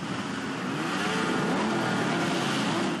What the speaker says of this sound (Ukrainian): Рев моторів та гори шин